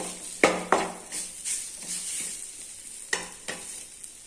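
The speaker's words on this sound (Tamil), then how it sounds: "இதை நல்லா வதக்கிடலாம்." Goat brain masala stirred and sautéing in a pan, with a steady sizzle broken by several sharp scrapes and clinks of a spoon against the metal, close and loud, no talk.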